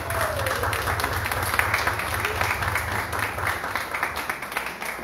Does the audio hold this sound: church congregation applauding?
yes